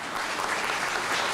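An audience at a medical symposium on multiple sclerosis bursts into applause, a dense, steady patter of many clapping hands throughout.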